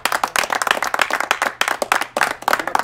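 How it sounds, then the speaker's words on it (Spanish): Brisk applause and clapping from an audience at a Mexican sonidero dance event with DJ sound systems, a burst of fairly close hand claps pulsing in uneven waves for a few seconds. "¡Aplausos!"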